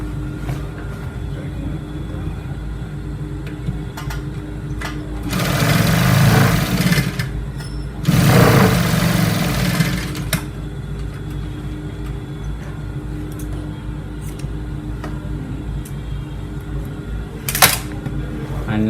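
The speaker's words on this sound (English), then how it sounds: "So now I'm just going to stitch this upper part." Sewing machine stitching the upper part of a trouser pocket to its borders, two loud bursts of motor hum and needle rattle lasting a few seconds each, separated by a short pause, over a quiet room background.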